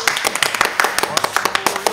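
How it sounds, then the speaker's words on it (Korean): A small group at a workers' protest rally claps in a brisk rhythmic beat, sharp close hand claps repeating quickly for about two seconds. "자, 박수!"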